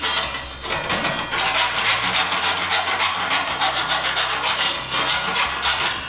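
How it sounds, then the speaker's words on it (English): Hand file deburring the edge of a 4 mm metal cable tray, a close run of repeated rhythmic rasping strokes at a steady pace, alone without talk. "And then run our file"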